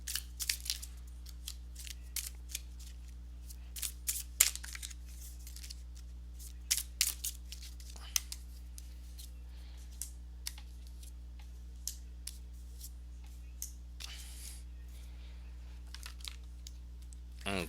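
Tarot cards being shuffled by hand, a run of crisp, dry riffling clicks and snaps spaced irregularly over a low steady hum, close and fairly quiet, with a brief longer rustle near the end.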